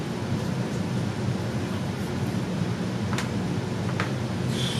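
Heavy rain falls steadily outside a house in Lena, Illinois as a tornado storm passes, a dense, even roar with a few faint brief clicks over it and no voices.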